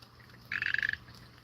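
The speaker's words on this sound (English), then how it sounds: "They're little green tree frogs." A little green tree frog calls close by with one rapid burst of about a dozen pulsing croaks, loud and alone against quiet outdoor background.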